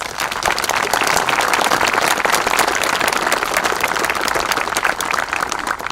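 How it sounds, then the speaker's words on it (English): A dense, steady round of audience applause at a Memorial Day ceremony, loud and continuous for the full length with no voices over it. "Let's give them a round of applause."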